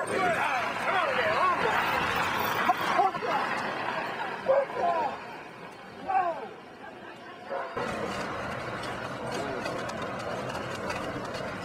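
Husky sled dogs and puppies yip, bark and whine together at a dog sledding stop in Churchill's northern boreal forest, a busy chorus of overlapping cries that carries on through steady outdoor noise.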